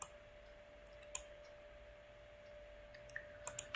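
Mouse clicks on the Run button in QGIS: several faint, sharp single clicks scattered across a quiet background with a steady electronic hum, the clicks coming in a small cluster near the end.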